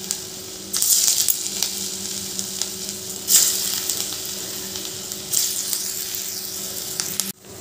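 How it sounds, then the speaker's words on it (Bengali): Cabbage pieces frying in hot oil in a kadai, a continuous close sizzle with a few sharp metallic clinks and bursts of crackle as the pieces are stirred. "এবার আমি এই টুকরোগুলো ভেজে নেব।"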